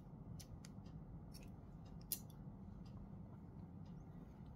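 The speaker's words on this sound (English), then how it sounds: "we'll cut the extra yarn from here." Scissors snip through crochet yarn on a small bell flower charm: a few faint, quick clicks spread over a steady background hiss, with one sharper cut standing out.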